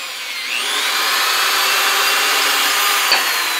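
A drill bores pilot holes for screws in a ceiling support for a clawfoot tub shower curtain ring, a loud continuous high whine that holds steady for several seconds with a brief bump near the end.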